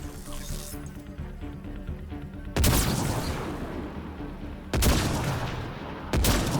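Gunfire in Mass Effect: Andromeda, three loud heavy blasts spaced a couple of seconds apart, each followed by a lingering rumble over steady game ambience.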